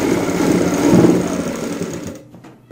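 A sewing machine runs in one continuous burst, stitching folded pleats into palazzo pants, a close, steady whirring that stops abruptly near the end, leaving silence.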